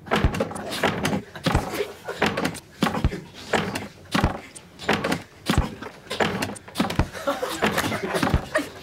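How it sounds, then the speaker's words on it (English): Saloon doors slam again and again in a quick, irregular series of loud thumps and bangs, with some laughter mixed in behind. "The contestant must be caught between slamming saloon doors for 20 seconds."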